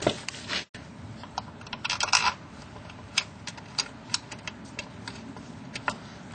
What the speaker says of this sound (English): Tighten up my number 10 headed bolt.